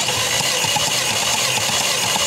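A car engine cranks continuously during a compression test, a dense, even mechanical churning that stays loud and steady throughout with no pauses.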